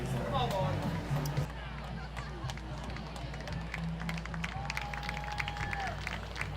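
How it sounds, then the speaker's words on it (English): Crowd at a high school football game between Lake Mary and Hagerty applauding an injured player, a broad wash of clapping and cheering in a large outdoor stadium, with a voice speaking over it. "Thank you for your round of applause for injured player from Hagerty, number 12, Jonathan Gandy"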